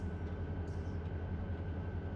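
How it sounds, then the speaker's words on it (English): Diesel locomotives reversing a train in the Run 8 train simulator, a steady low rumbling engine drone with a sustained hum, continuous and close, with no talking. "We're in reverse because we didn't change the direction of the train"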